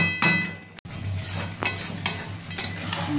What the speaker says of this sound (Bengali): কিছুক্ষণ ঢাকছি, কিছুক্ষণ আবার নেড়ে দিচ্ছি।